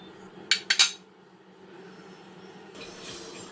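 A pot of kachki fish with tomatoes is set down on a stove, making three sharp metallic clanks in quick succession, close by, followed by a low background hum.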